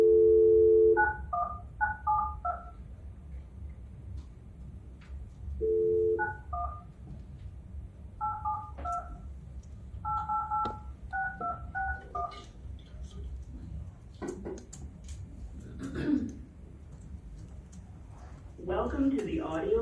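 Touch-tone keypad beeps dialing back into a conference bridge, short clustered bursts of tones in several groups, followed by faint clicks and muffled noises, with a voice talking at times.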